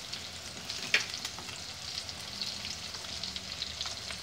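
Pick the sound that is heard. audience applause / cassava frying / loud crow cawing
cassava frying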